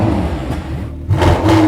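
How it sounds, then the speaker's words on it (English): Turbocharged V8 of a McLaren GT revving hard, a loud close engine roar that briefly drops away then surges back in a sharper, rising burst. "You want to hear how this V8 sounds?"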